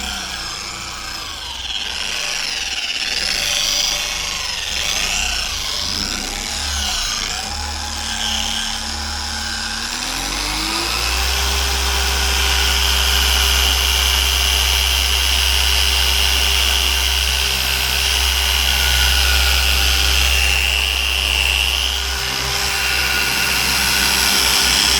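A Maxshine M15 Pro polisher whirs steadily on swirl-marked paint, its tone dropping and straining as it bogs down, then recovering to a louder, steady electric hum for the rest of the run.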